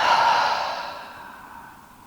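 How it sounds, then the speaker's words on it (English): One long exhale through the mouth at the close of a yoga practice, a close, breathy sigh that starts strong and fades gradually over about two seconds. "One big exhale through the mouth."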